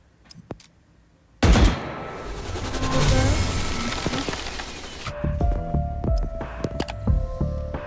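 An upgraded weapon skin in the Valorant Mobile video game fires a sustained, loud automatic burst lasting several seconds, followed by quieter in-game clicks and tones.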